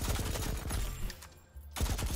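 Rapid gunfire from a firefight in the online shooter game Citizen Conflict crackles in dense bursts, a brief lull, then another loud volley.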